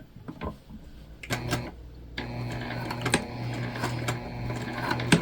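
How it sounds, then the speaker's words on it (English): Sewing machine back stitching along the center line of a quilted pouch with a Microtex needle, a rapid mechanical whir starting and stopping in short bursts, close and fairly loud, with no talk. "I am gonna back stitch"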